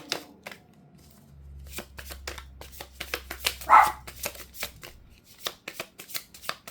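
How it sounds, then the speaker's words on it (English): A dog barks several times in short bursts amid crisp shuffling and snapping of a fairly new, slightly sticky tarot deck close by; a low hum runs underneath for a while. "Sorry about the dog barking."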